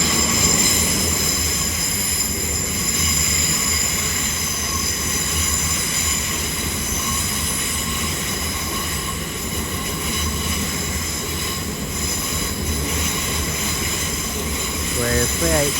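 A Class 387 electric train, a pair of units from Heathrow, pulls into a London terminus, its steady rolling rumble and hum filling the clip with a rise of wheel squeal near the end.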